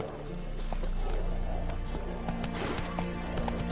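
Horse hooves clip-clop at a run in The Witcher 3, a steady rhythmic gallop carried over a constant game backdrop at moderate loudness.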